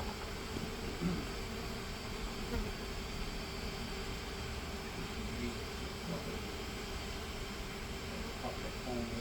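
Honeybees swarm around a hive during a removal, a steady dense drone of buzzing wings held at an even level throughout, with a constant hum and no break.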